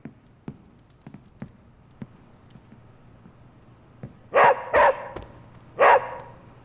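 Charlie, a dog in the video game Marvel's Midnight Suns, gives three loud, close barks in quick succession. Fainter soft thumps come before the barks.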